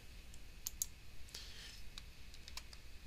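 Computer mouse clicks while inserting math into a Google Doc, several faint, sharp, isolated clicks scattered over quiet background hiss.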